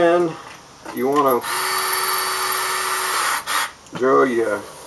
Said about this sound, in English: drill you about a 1/4-inch hole in the outside perimeter of your what they call a gutter